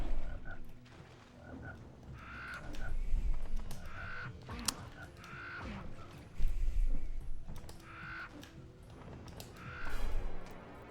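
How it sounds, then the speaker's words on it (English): A frog enemy in the Jak and Daxter video game makes repeated croaking, cawing calls at a steady rhythm over a busy game background, moderately loud, with occasional thuds and mechanical effects. "I just need to be careful around shit like this stupid ass frog"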